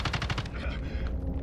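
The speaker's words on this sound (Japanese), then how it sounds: "撃たれてる。" Rapid automatic gunfire from the video game Call of Duty: Modern Warfare, a quick burst of close, loud shots followed by scattered, fainter reports, with no voices.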